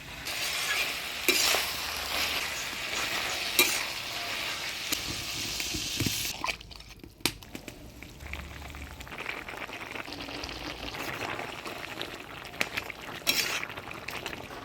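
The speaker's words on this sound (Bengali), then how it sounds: "এবারে ঝোল দিয়ে দিব।" Bottle gourd leaves simmering in a pan as broth goes in, a steady bubbling sizzle with occasional stirring clinks, close and moderately quiet, no voices.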